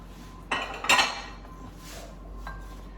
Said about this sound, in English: Going to give that a nice stir.